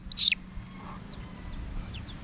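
A newly hatched gamefowl chick gives one loud, close peep, and softer high cheeps follow from other chicks over a quiet background.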